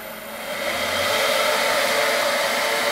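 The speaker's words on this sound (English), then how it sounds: "I also have a fan behind me blowing in my living room for where the air conditioner is" An electric fan runs at full speed in a living room, a steady close whooshing roar that swells slightly at the start and then holds even, with no talking.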